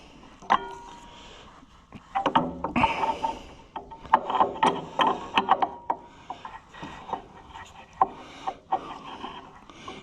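Metal wrench working bolts on an Oliver 70 tractor during a teardown, with irregular clicks, scrapes and clunks of the tool on cold metal, close and moderately loud, no speech.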